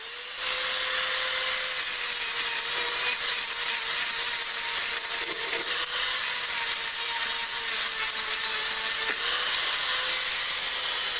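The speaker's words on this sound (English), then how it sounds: "Let's see how this first sanding disc does." A sanding disc spins steadily on a power tool in a small workshop, a continuous loud whirring hiss with a faint high whine, running unbroken for about ten seconds.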